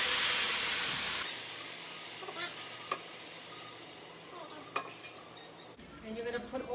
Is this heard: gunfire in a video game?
no